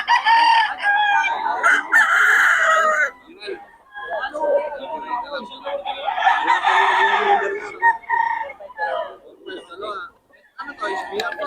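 Boston roundhead gamecock roosters crow loudly and repeatedly at a fowl market, with clucks and scattered people talking in between.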